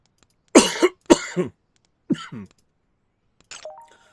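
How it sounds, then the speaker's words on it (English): Two close, loud bursts of coughing, then a shorter cough and a faint throat noise after a pause, heard alone with no talking around them. "Sorry for coughing in y'all's ear."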